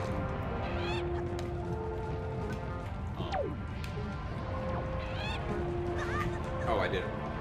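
A bird squawks and honks in the Wind Waker video game, with short cries scattered across steady game background sound and music.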